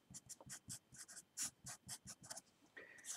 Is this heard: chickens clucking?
no